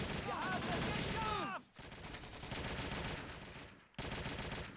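German gunfire in the Men of War video game: rapid, dense bursts of rifle and machine-gun fire crackling loudly, interrupted by a few sharp pauses, with ricochet-like whines early on.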